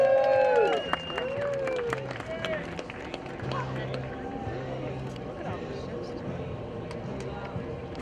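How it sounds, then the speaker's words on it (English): A waterfront crowd at the 2016 Brockville Tall Ships Festival cheers as the tall ship Empire Sandy sails past. Rising whistle-like cries open over broad, sustained crowd noise and scattered clapping, with babble continuing throughout. "let's cheer as the Empire Sandy goes by"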